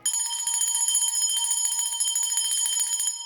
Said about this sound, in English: I'm definitely going to ring the bell for that.